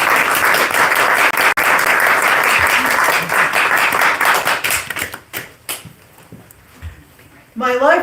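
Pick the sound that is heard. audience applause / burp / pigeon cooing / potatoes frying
audience applause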